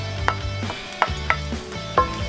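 Chopped garlic sizzles in hot olive oil in a pan, a steady close hiss with a few sharp clicks and scrapes of stirring scattered through, no voices.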